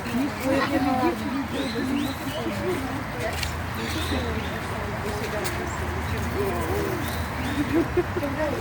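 Pigeons coo in soft, repeated throaty calls amid chatter and background noise at Kyiv Zoo, with people talking nearby.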